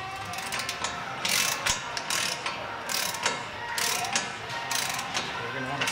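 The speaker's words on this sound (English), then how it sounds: "Go ahead and reinstall the nut." Hand ratchet snugging down a wheel hub lock nut during a wheel hub replacement, close, crisp clicking in short repeated bursts with brief pauses between strokes.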